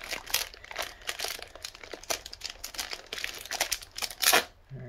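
A plastic bag is crinkled and torn open to remove a Toto Washlet heated bidet toilet seat part, with close, busy rustling bursts and a louder crackle near the end.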